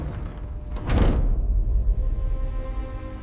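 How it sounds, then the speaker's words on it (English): A door opening in a house in Oymyakon, the coldest village on Earth, with a brief creak and thud near the start followed by a low, steady room rumble. "He opens the door."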